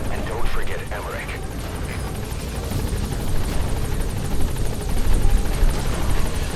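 A helicopter touches down in Metal Gear Solid V, its loud, steady rotor thrum and engine roar close and continuous, with brief chirping bird-like sounds near the start.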